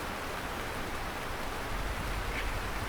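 Steady rainfall in the farming video game Lightyear Frontier, a constant even hiss of falling drops with no other sounds standing out.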